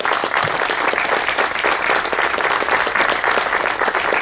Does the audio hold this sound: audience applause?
yes